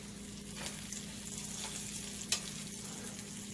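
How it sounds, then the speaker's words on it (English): Fried apple pies sizzle and crackle steadily in moderately hot grease, a constant bubbling hiss with a few sharper pops. "We are frying it on up."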